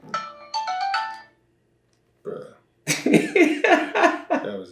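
A mobile phone ringtone that will not stop plays as a loud, close, repeating electronic melody, breaks off, then returns in bursts with a burp-like sound and a voice over it.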